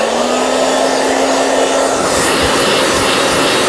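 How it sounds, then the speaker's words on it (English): A blow dryer on its cool shot setting runs with a steady, loud, unbroken whoosh of air and a faint whine, close and alone. "you cool it to set it with the cool shot on your blow dryer"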